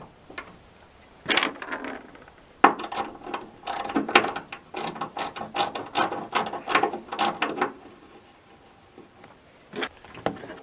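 A hand ratchet clicks as it takes out the tail light bolts on a 2011-2016 Ford Super Duty, with quick bursts of close, crisp pawl clicks and brief pauses in between.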